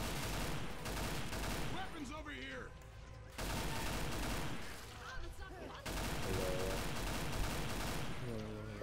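Rapid bursts of gunfire from the zombie shooter Left 4 Dead 2, played on a custom campaign map, in loud sustained volleys that break off briefly and resume, with voices talking over them.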